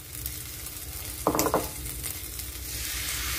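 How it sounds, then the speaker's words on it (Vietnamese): Flour batter fries in a hot pan with a steady sizzle, broken midway by a brief cluster of scraping, clattering stirring strokes against the pan. "mình trở liền, lăn liền để cho nó bột nó đừng có đóng cục"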